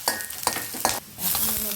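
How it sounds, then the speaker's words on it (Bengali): Onions fry with bay leaf, cinnamon and cardamom for a pointed gourd korma, with a close sizzle punctuated by three rhythmic spatula scrapes, then a brighter, steadier hiss. "এখন এই পেঁয়াজগুলোর মধ্যে আমি গরম মশলা দিয়ে দিচ্ছি।"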